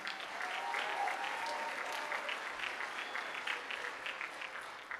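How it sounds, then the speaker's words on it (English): Graduation ceremony audience applauding steadily, a dense wash of many hands clapping at even loudness throughout, with no talk over it. "Want to give them a huge round of applause?"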